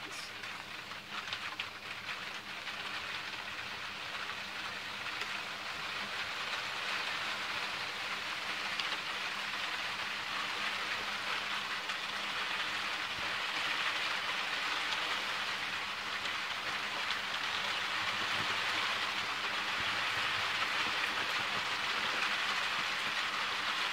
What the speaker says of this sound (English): I'm already getting soaked in rain